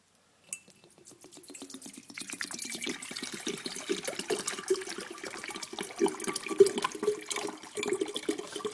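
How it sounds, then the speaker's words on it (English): Plain spring water poured into an HHO electrolysis cell with carbon fiber electrodes, no electrolyte added, giving a steady close trickling and gurgling that starts after a short knock and continues with small splashes. "Now we're going to put the water in."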